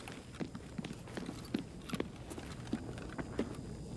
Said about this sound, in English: I hear footsteps.